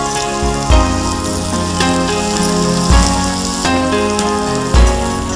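Curry leaves with chopped onion sizzling in hot oil while making methi chicken, a loud dense crackle and spatter with sharp bursts as ingredients hit the pan, over a steady background tone.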